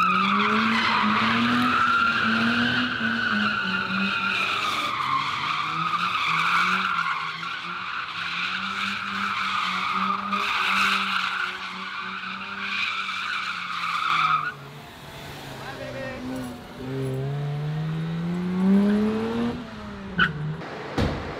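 A Mazda RX-8 driven hard squeals its tires in a long, wavering skid with engine noise beneath, the rubbing tire shrieking loudly and shifting pitch as the car slides.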